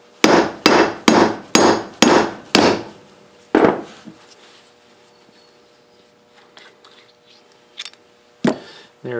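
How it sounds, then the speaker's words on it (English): A brass hammer strikes a coin die to punch out a hole, six loud, evenly spaced metallic blows in quick succession, then one more, followed by quieter clinks and scrapes of the coin and tools. "we'll be using a brass hammer to punch the hole"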